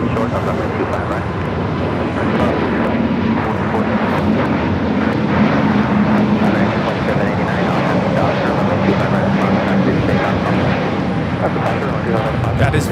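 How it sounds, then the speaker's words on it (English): An Airbus A320neo jet airliner taking off at Los Angeles airport makes a loud, continuous engine roar that holds steady throughout, with a voice talking over it. "That is Volati 7849 taking off to Oaxaca on the A320 Neo"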